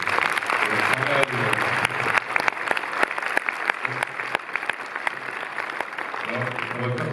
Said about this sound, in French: Je pense que vous pouvez les applaudir vraiment tous.